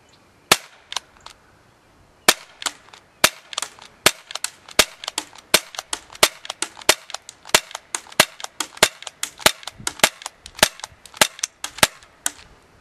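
An ASG CZ75 P-07 Duty CO2 airsoft pistol fires a full 16-round magazine at a target, each shot a sharp, close crack. The shots come in an uneven string, with a pause after the first few and then a steady run of rapid shots.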